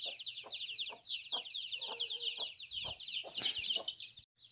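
A protective mother hen clucks in short, repeated bursts close by, steady and agitated, with a few sharper calls toward the end.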